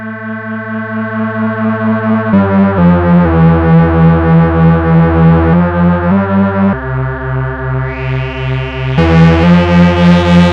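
A sustained synth tone with filter drive distortion, bass-heavy and gritty, its distortion growing thicker and brighter as a held note steps through a few pitch changes.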